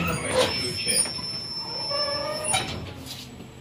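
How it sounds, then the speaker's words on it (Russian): Sliding doors close on a 71-623 tram at a stop, with a mechanical hum and a thud under a recorded announcement, plus a faint high electronic whine inside the car. "Осторожно, двери закрываются."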